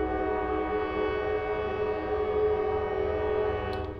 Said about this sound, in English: The trains are passing by. I'm right next to train tracks.